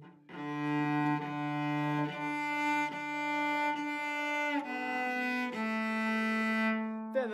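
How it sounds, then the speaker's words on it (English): A solo cello bows a warm-up exercise that starts in third position and shifts down to first. It plays a series of sustained, evenly spaced notes close up, with audible bow changes between them and no voices. "we're starting in third position, going down to first"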